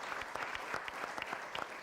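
Studio audience applause during a Hindi TV game show, a steady dense patter of clapping throughout, fairly loud and without speech.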